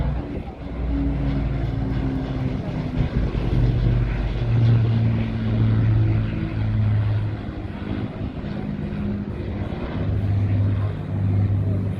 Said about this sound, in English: Good entrance of the Lancaster bomber.